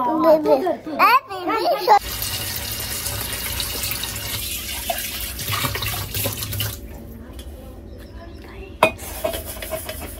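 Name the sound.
tap water running while washing dishes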